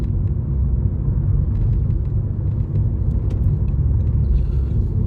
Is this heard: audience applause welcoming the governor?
no